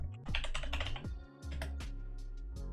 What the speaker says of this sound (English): I'm going to type in my password over here